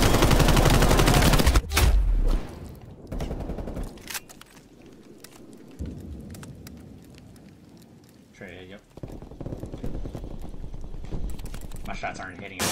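Gunfire in Call of Duty Black Ops Cold War, heavy bursts of shots at the start and scattered shots later amid other game noise, loud and close.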